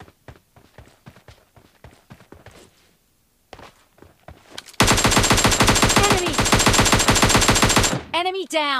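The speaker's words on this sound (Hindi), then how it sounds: "उस बंदे की टीममेट ने मुझ पे बहुत सी तगड़ा फायर करना चालू कर दिया" Gunfire from PUBG Mobile Lite, with in-game footsteps first, then a sustained loud burst of rapid automatic fire for several seconds, close and dominant.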